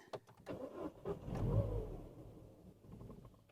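Mini with an engine management light on after a timing chain change, cranking briefly, catching with a short low rumble, then cutting out and falling quiet, heard close and fairly faint.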